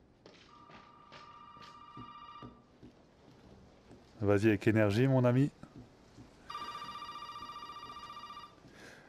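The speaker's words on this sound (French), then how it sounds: "il y a le téléphone qui sonne" A telephone rings in a Resident Evil 7 game scene, sounding in two repeated bursts of bright electronic tone separated by a loud spoken stretch, with faint footsteps and room noise between.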